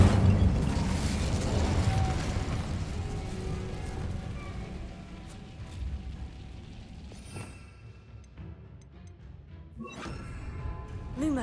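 An Incendio fire spell in Hogwarts Legacy erupts with a loud whooshing, crackling burst that slowly fades to a quieter rumble, then a few sharp magical zaps and bursts flare up near the end.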